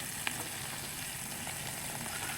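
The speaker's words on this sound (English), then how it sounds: "We got a nice simmer going, nice hearty simmer." Ham steak simmering in a pan over a fresh sterno burner at a camp cooking setup, a steady soft bubbling sizzle that holds even throughout, close and alone with one brief tick near the start.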